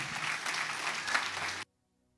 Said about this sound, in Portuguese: Dá um aplauso bem forte ao Senhor.